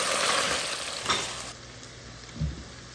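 Chile verde sauce made with New Mexico Hatch chiles hits a hot pan and erupts into a loud, dense sizzle that quickly settles into a softer hiss, with a couple of dull knocks from the pan or utensil.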